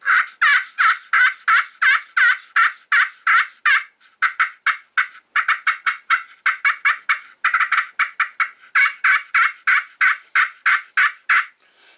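A pot-style turkey call played with a striker turns out long runs of loud, raspy yelps, with short pauses between bursts and a rusty, grating edge to each note. The call is close and there is no talking.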